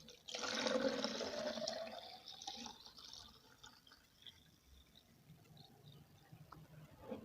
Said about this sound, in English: I will fill it completely with water